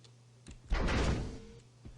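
A single heavy gate door in an Unreal game level rumbles and slides shut with a muffled thunk, moderately loud against a quiet background.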